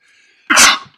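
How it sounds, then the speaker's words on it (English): A single sharp human sneeze bursts out close and loud after a faint intake of breath, then cuts off. "Right when I was about to talk about the blessings, I sneezed."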